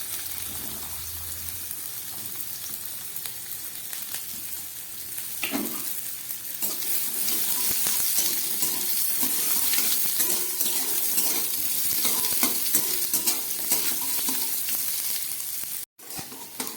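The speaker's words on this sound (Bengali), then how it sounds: "এবারে একদম প্রথমে আমি একটু গাজরটাকে ভেজে নেব" Carrots frying in a pan while being stirred, with a low hiss at first, then a louder, continuous sizzle from about five seconds on, scraping stirs scattered through it, and a brief drop near the end.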